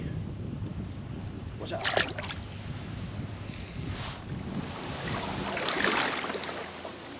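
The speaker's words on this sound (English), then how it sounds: "You see that wind really starting to whoop through those trees. It's blowing pretty good now." Strong wind gusts through trees in a swamp during a bass fishing trip: a steady broadband rush with a couple of louder swells, mixed with some water noise, while someone speaks briefly.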